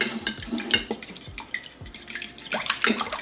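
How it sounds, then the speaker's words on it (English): A whisk beats an egg in a bowl with quick, continuous side-to-side clicking and wet sloshing, close up and steady for a few seconds, with no voices. "So we're going to want to whisk the egg very nice."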